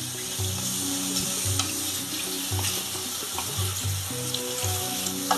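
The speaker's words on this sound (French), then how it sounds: "Voilà, c'est en train de bouillir." Egusi mushroom sauce with soy protein boiling in a pot: a continuous bubbling, hissing simmer with low repeating bloops and occasional small clinks, close and steady, with no talking.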